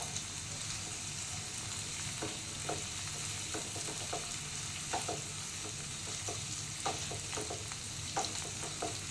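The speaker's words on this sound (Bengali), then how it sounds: "একটু নাড়াচাড়া করে দিয়ে দিলাম পেঁয়াজগুলো এর সঙ্গে একটু ক্যাপসিকামটাও দিয়ে দিলাম" Onions and capsicum stir-fried in a hot pan for chowmein: a steady loud sizzle throughout, broken by repeated scraping clicks of a spatula stirring the vegetables, with no talking.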